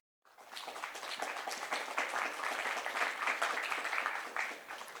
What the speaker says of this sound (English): let's have a huge round of applause for all our poets